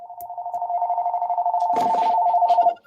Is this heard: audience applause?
no